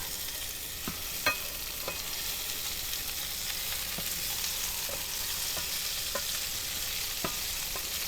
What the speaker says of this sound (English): I'll go ahead and saute these tomatoes